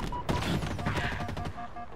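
Gunfire in Halo Infinite: a cluster of heavy, booming shots and impacts with crashing debris, moderately loud and continuous over two seconds, with faint game tones mixed in.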